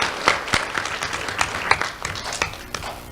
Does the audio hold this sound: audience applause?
yes